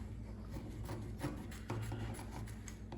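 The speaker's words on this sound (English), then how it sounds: "I'm going to go ahead and cut this out" Scissors cutting fabric for a button-down top produce faint, close, continuous rubbing and snipping rasps with a few slightly louder strokes.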